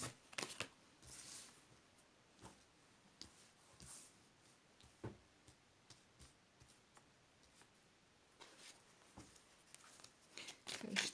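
Tarot cards shuffled close up in quiet surroundings, soft papery riffles and slaps coming in irregular bursts, faint and intimate.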